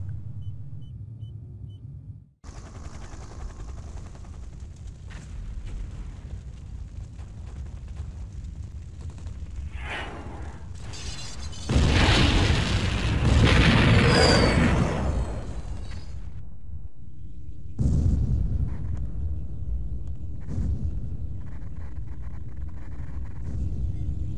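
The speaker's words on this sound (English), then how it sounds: "The temple's been blown all to hell." A temple blown apart by explosions in the Command and Conquer Tiberian Dawn strategy game: a low rumbling bed gives way to a loud, heavy blast and roaring destruction in the middle, then continued deep rumble.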